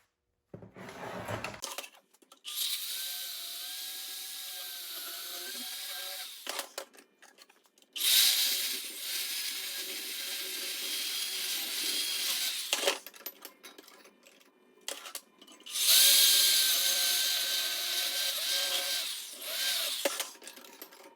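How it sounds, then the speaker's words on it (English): Power tool cutting and grinding an exhaust weld on a 1962 Ford Falcon, three loud sustained bursts of harsh whining abrasion separated by short pauses, no talking. "I'll cut back here in about an 1/8, grind this weld off"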